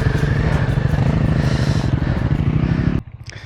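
A motorcycle engine labours loudly up an off-road hill, a throbbing, pulsing exhaust note close to the microphone that drops away sharply near the end.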